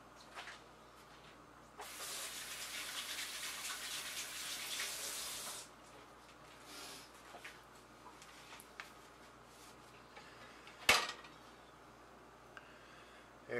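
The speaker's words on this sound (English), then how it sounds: "Let me wash my hands." Hands are washed under a running kitchen tap: a steady hiss of water flows for several seconds and then stops, followed by faint handling sounds and a sharp knock.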